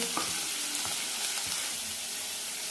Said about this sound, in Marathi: छान फ्राय करून घ्यायचं 1-2 मिनिट